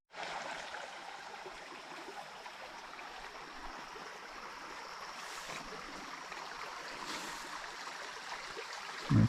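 A small creek holding wild trout rushes and burbles where water flows in. The steady, full sound runs unbroken and moderately close, with a soft thump at the very end.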